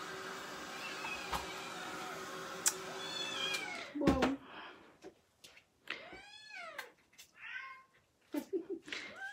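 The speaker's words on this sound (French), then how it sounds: "Elle miaule-tu ici?" A pet cat meows several times in a home, with clear rising and falling calls coming close together in the second half, after some background noise and movement earlier on.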